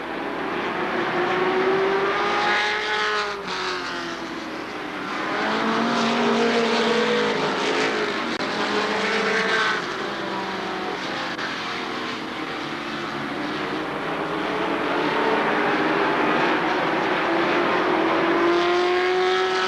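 Race cars roar around the Shadybowl Speedway oval during the 1996 Buckeye Fall Classic, a loud continuous wall of engine noise with pitches rising and falling as cars pass close by.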